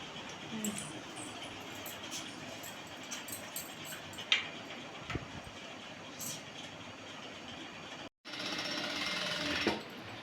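A sewing machine stitching a blouse made from an old sari runs with a steady, fast mechanical chatter, close and moderate in volume, with a brief stop and then a faster burst near the end.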